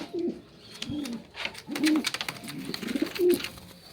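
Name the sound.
pigeons cooing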